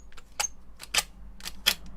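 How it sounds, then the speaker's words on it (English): Blade scraping and tapping on a glass work surface while cutting a polymer clay cane: several short, sharp scratchy strokes at an irregular rhythm, close and fairly faint, with no talking. "Sorry about the scratchy noise, but you know, blade on glass."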